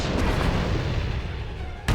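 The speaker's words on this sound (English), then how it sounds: "Grenade." Thermal detonator grenade exploding in SWTOR, a loud, deep booming blast with a long rumbling decay, followed by a sharp second impact at the end.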